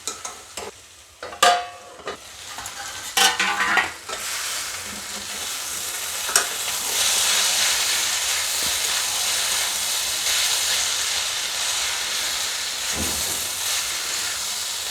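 Cabbage with fish heads sautéing in a pan, with spoon scrapes and clatter early on, then a steady loud sizzle and steam hiss running on alone without talk.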